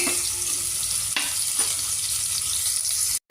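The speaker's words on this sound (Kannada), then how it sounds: "ಈರುಳ್ಳಿ ಮತ್ತು ಬೆಳ್ಳುಳ್ಳಿ ಎಣ್ಣೆಗೆ ಬಾಡೋವರೆಗೂ ಬೇಯಿಸ್ಕೊಳ್ಳಿ." Onion and garlic frying in oil for sambar, a steady close sizzle with a couple of brief scraping stirs, then a sudden cut to silence near the end.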